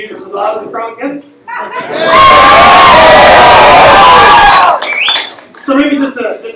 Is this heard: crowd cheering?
yes